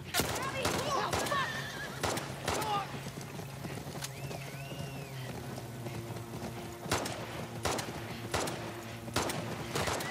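Horse whinnying in the video game The Last of Us Part II, a neigh standing out mid-clip amid hoof clops and other game sounds, with a person talking over it throughout.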